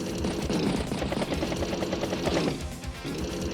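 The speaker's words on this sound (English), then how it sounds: "Anti-air will strike battlecopter." An anti-air unit in Advance Wars fires on a battlecopter, a loud rapid rattle of gunfire over a whirring rotor drone, with a short pause before the firing resumes.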